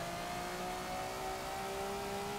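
A 1957 Maserati 250F single-seat racing car in Forza Motorsport 7 holds a steady, loud engine drone with a sustained high tone at a constant pitch, close and alone.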